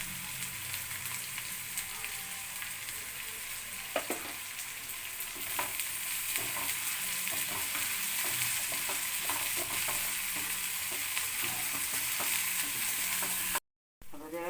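Beef sautéing in a pan for a quick beef roast gives a steady, close frying sizzle with scattered stirring clicks and scrapes, briefly cutting out near the end.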